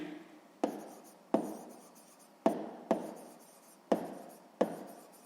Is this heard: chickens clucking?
no